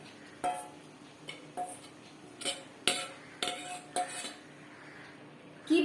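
Vegetables are layered into a biryani pot with metal utensils, producing a series of sharp clinks and scrapes of spoon against pot, spaced irregularly about once a second, fairly close and without talk.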